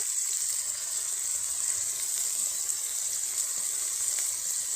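Ginger, garlic and cumin pastes frying with onion in hot oil, a steady close bright sizzle holding evenly throughout with no talk.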